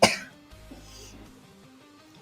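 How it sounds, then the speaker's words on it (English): A single sharp cough close by, followed by quiet room noise and faint low sounds. "Oh, sorry, I've got the coughs."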